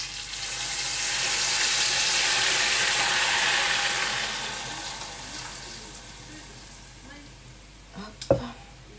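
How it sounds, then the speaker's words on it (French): Water poured into a cooking pot in a home kitchen makes a broad, steady hissing rush that slowly fades out, followed by a short clunk near the end. "je vais mettre mon eau"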